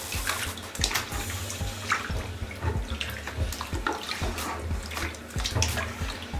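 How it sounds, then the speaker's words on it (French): A wig massaged in a basin of water with blue shampoo, giving steady sloshing, squelching and dripping sounds close by, continuous and without speech. "je fais en sorte que chaque cheveu soit imprégné du shampoing bleu. Je les masse à l'intérieur de l'eau."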